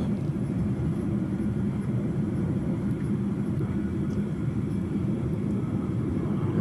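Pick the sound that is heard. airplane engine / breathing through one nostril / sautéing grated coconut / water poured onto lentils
airplane engine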